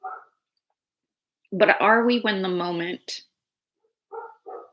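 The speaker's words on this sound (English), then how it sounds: "that's my dog, by the way." A dog barks a short burst of loud, close barks in the middle, with someone speaking in brief phrases before and after.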